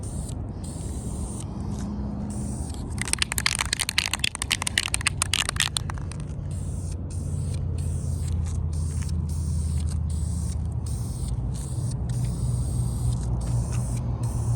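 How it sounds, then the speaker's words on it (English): A spray gun applies high temperature coating to restored van parts: a hissing spray burst with crackly sputter, followed by a steadier mechanical hum and faint scraping. "Restoration in progress, restoring, powder coating, high temperature coating being applied."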